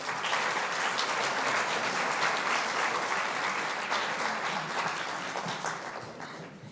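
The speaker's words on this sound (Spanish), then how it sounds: "Fuerte un aplauso." An audience at an academic law-education event applauds an honoree with dense, sustained clapping that fills the room and eases off slightly toward the end.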